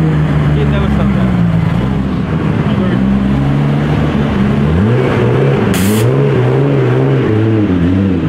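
Toyota Supra engines rev at an outdoor car meet outside a brewery, loud rising and falling tones sweeping up and down in repeated pulls, with a crowd chattering underneath and a short hiss near the end.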